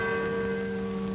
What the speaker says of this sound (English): Even now, the bell summons us all to the square.